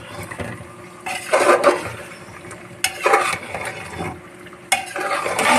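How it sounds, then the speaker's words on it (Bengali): A utensil stirs duck meat with ground coriander in a pan, making a few loud scraping bursts with clinks against the metal, close by and separated by quieter pauses. "ভালো করে নাড়িয়ে"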